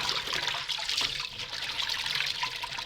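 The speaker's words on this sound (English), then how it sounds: "So give them a quick rinse in the water." Baby leeks being rinsed in water, giving a steady close splashing and trickling wash of liquid with no speech.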